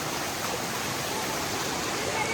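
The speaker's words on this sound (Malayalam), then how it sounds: "ചോലയിൽ ഒലിച്ചു വരുന്ന വെള്ളം കേട്ടോ പാടത്തിന്റെ സൈഡില്" Water running down a small stream beside a paddy field in Valanchery, Kerala, a dense steady rushing wash that fills the whole stretch at an even level, close by.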